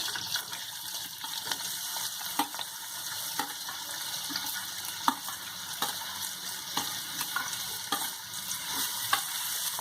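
Chopped onion and garlic frying together in a pan, a steady moderate sizzle with regular scraping and tapping of a spatula as it is stirred. No speech.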